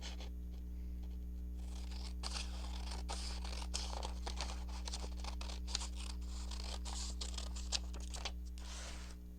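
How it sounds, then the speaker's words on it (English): Scissors trimming paper for a collage, a steady run of close, crisp snips and cuts through the sheet, with a constant low hum in the background and no talking. "Let's just trim this down."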